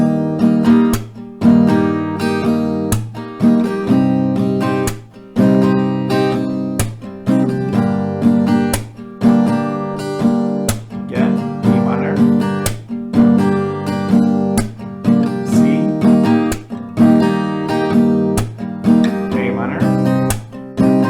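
Acoustic guitar strummed steadily through the chord progression of a song, with a loud, close, rhythmic pattern of down and up strokes and no voices.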